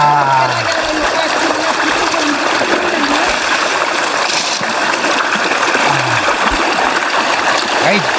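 Cold groundwater splashes and streams during bathing beside paddy fields, a steady, loud rush of running water with repeated splashes throughout, and a voice is heard briefly.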